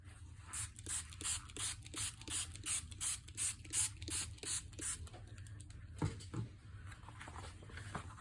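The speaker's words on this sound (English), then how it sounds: "So I'm just using a spray bottle of water, and I'm really wetting it well." A handheld trigger spray bottle of water mists onto paper in a rapid, even series of about a dozen close hissing squirts, followed by a soft rustle of the wet paper.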